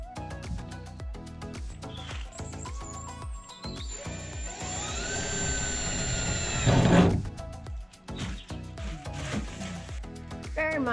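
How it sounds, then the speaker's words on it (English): A power drill with a small number 4 bit bores marking holes in a camper van's metal roof. Its whine rises and holds for a few seconds amid scattered knocks and handling clatter. "we're using a number 4 drill bit just so we can mark the four corners up"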